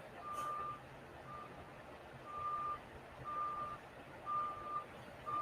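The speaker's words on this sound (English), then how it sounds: "Somebody backing up." A reversing truck emits a series of evenly spaced electronic beeps, moderately distant, over steady background rumble at a truck stop.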